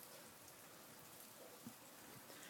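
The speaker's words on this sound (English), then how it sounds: "It's raining pretty darn hard still." Heavy rain pours down steadily outdoors on a cold day, a dense continuous hiss of drops hitting surfaces and puddles, fairly faint and even, with no voices.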